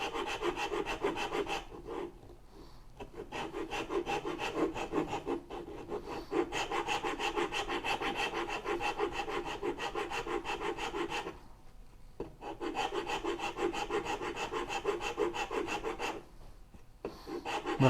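A hand rasp files wood in repeated rough rubbing strokes, close and steady, with a few short pauses between bursts and no talking.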